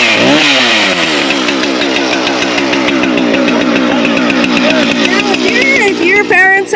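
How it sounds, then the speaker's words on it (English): A chainsaw runs steadily at high revs while cutting a fallen tree blocking a trail, a loud, continuous buzzing drone close by with slight pitch wavering as the chain bites into the wood. "a chainsaw."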